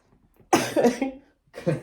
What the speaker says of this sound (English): Here, cough it up.